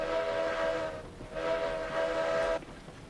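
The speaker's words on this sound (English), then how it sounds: "Whistle just sounds wet now." A steam locomotive whistle in a rainy scene from the railroad game RailRoads Online blows two long steady tones with a short gap between them, fairly faint and muffled over a constant rain hiss.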